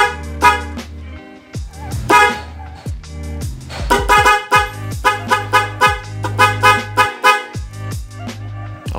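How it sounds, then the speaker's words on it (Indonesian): A car horn setup pairing a small standard horn with a large snail-type horn, honking in a series of short and longer blasts, loud and close, with brief gaps between toots and no talking. "Terus yang ke kiri baru klakson yang gede,"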